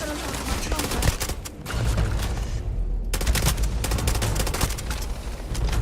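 Rapid gunfire in the video game Starfield, loud bursts of automatic shots with a short lull before the firing resumes, and some talk mixed in.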